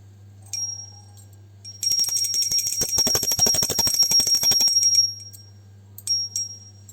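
A small prayer bell rings rapidly and continuously for about three seconds during a Hindu Hoi Ashtami offering, bright and metallic, with a few lighter chimes before and after.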